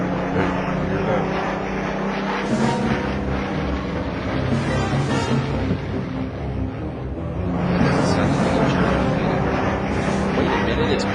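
Aircraft engines droning steadily overhead during a British air raid on a German barracks area, a loud continuous rumble that swells near the end, with voices talking in the foreground.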